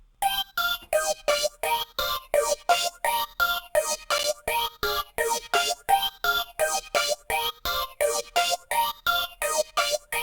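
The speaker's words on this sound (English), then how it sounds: "I call it the reverb Goku lead" A bright synth lead plays a fast, repeating staccato pattern of notes, each hit trailing into a wash of reverb, steady and loud throughout.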